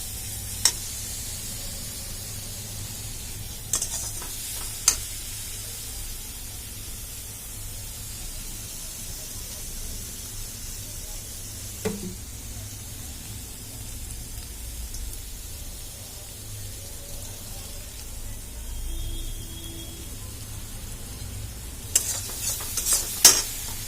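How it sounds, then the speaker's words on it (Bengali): Spice masala cooked down with a splash of water for pabda fish tel jhal: a soft, steady sizzle and hiss, with a few isolated spoon taps against the pan and a cluster of scrapes near the end. "জল দিয়ে একটু কষাতে শুরু করলাম"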